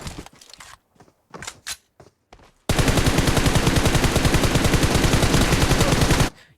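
Automatic gunfire in PUBG Mobile fires as short scattered bursts, then a long, loud, rapid unbroken stream of shots that runs for about four seconds and cuts off abruptly.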